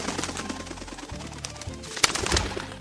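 Pigeons cooing in a loft, several birds giving repeated low throaty coos close by, with cooing running throughout and a few sharper bursts near the end.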